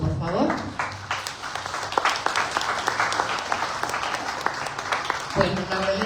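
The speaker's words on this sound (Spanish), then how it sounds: "les pido un fuerte aplauso, por favor" Audience applause at a Mexican cultural policy dialogue session, a steady mass of clapping from the crowd lasting several seconds and fairly loud throughout, with a brief voice near the end.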